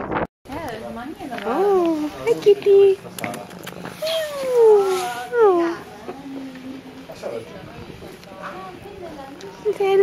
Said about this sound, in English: Look at all the kitties.